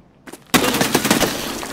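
Gunfire in Escape From Tarkov: after a couple of faint shots, a loud burst erupts into rapid repeated cracks and a ringing tail, close and sharp.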